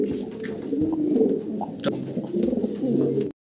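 A pair of racer pigeons coo softly in a close series of low, rolling calls with a brief pause midway.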